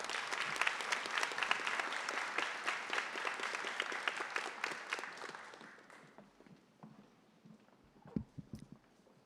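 Applause fills a high school biliteracy recognition ceremony, steady clapping for several seconds that fades out, followed by a few scattered claps and small noises.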